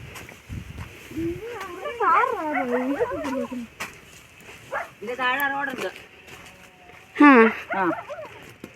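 Dogs bark and howl a few times in bursts, fairly close, with people talking in between.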